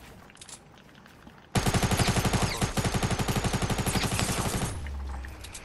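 Burst rifle gunfire in Fortnite, a loud, rapid string of evenly spaced shots starting suddenly after a quieter stretch and running for about three seconds before cutting off.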